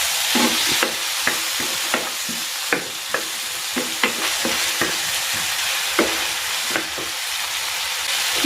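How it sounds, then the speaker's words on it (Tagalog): Tomatoes sauté with onion in a hot pan, giving a steady loud sizzle broken by about a dozen sharp clicks of a utensil stirring and scraping the pan, with no voices. "igigisa ko na rin dito itong kamatis"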